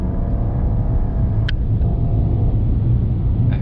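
A Rolls-Royce Phantom accelerates, heard from inside as a steady deep rumble of engine and road noise, loud and continuous with a faint tick midway.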